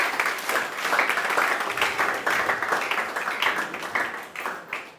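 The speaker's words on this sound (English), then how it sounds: "A round of applause once again." A seated audience at a formal program gives a sustained round of applause, many hands clapping in a dense, even wash that fades slightly toward the end.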